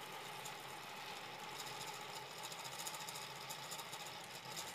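A cheap 3D printer fitted with a granules extruder runs steadily, its unstable mechanics vibrating so the table shakes, giving a continuous buzzing, rattling mechanical drone throughout with no speech.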